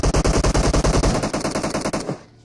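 A rapid automatic burst of gunfire in the mobile battle game PUBG Mobile, loud and close, about a dozen evenly spaced shots that thin out and stop, followed by a brief quiet tail.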